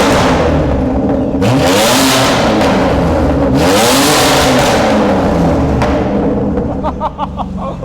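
A 700 bhp BMW G87 M2 revving hard, close and loud, with two rising and falling sweeps of engine pitch over a rough exhaust roar before the engine settles toward the end.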